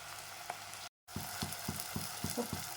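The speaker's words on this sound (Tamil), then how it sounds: "இப்போ பார்த்தீங்கன்னா தக்காளி நல்லா வணங்கிட்டு இருக்கு" Chopped tomatoes fry in a pan for tomato rice, a steady soft sizzle with rhythmic scraping taps of a spoon stirring, close and fairly quiet, with one brief dropout.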